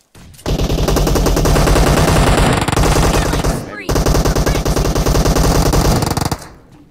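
Rapid automatic M7 rifle fire in a team deathmatch video game, a dense loud stream of shots lasting several seconds with a brief pause midway, no talk over it.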